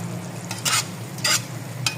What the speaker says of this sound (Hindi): बस एक दफ़ा और हम दाल को ऊपर नीचे कर देंगे